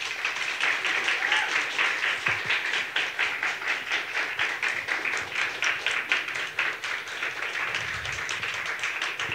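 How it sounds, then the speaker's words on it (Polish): An audience claps steadily through a winter vocal-workshop concert, the dense, even applause continuing loud and unbroken for several seconds with no voices over it. "Duże brawa!"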